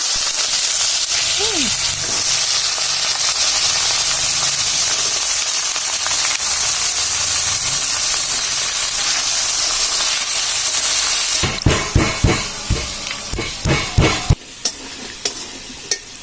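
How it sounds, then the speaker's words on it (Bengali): Potatoes fry in hot oil with bay leaf and dried red chilli, giving a loud, continuous close sizzle; toward the end, rhythmic stirring scrapes and knocks cut through the hiss. "আর এখন আলু দিয়ে দিচ্ছে, ভেজে নিবে।"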